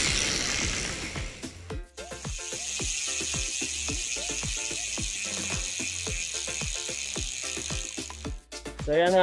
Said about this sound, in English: narinig nyo naman kung gaano kaangas ang tunog nitong Gub Hub na to